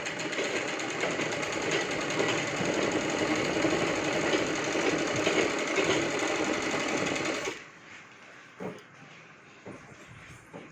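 A sewing machine stitches a lehenga in a steady, fast, continuous whir for about seven seconds, close and loud, then stops, leaving a few faint handling clicks.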